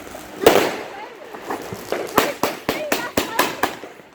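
Witchcraft fireworks going off in a rapid string of sharp, loud cracking bangs, about ten pops spread irregularly over a few seconds, close by and outdoors, with excited voices reacting between the blasts.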